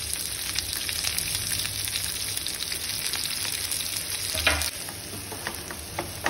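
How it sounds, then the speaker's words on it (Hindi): Sliced onions fry in hot oil with cinnamon and whole green and black cardamom for Hyderabadi biryani, giving a steady, close sizzle with stirring scrapes throughout and no talking. "मैं स्लाइस किया हुआ प्याज डाल देती हूँ।"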